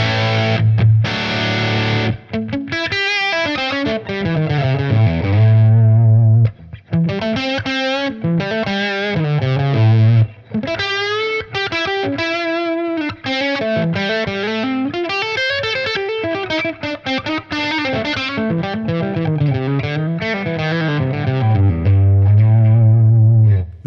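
Electric guitar played through a Fuchs ODS Classic amp model on a TONEX unit, a pushed, overdriven tone with sustained melodic lead lines and chords, loud and continuous with only brief gaps.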